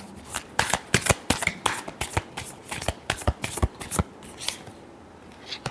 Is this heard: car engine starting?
no